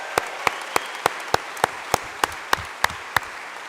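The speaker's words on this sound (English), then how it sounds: "Give yourselves a round of applause." An audience gives a round of applause at an evening community organizing assembly, heard as a series of sharp, regularly spaced claps ringing out over a quiet room.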